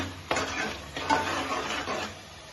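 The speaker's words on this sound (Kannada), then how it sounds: "ಸ್ವಲ್ಪ ಫ್ರೈ ಆಗಬೇಕು, ಇಲ್ಲಾಂದರೆ ಹಸಿ ಆಗೋದಿರುತ್ತೆ, ತಿನ್ನೋಕ್ಕಾಗೋದಿಲ್ಲ" Vegetable pulao masala stirred and fried in a pan, with a steady sizzle and scraping spoon strokes against the metal in a few slow sweeps, close and fairly loud, no talk.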